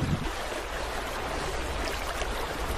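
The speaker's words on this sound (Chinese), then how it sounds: "我的脚下呢是缓缓向西流淌的黄河水" The Yellow River flows slowly westward below a riverside village, making a steady, even rush of moving water with no voices over it.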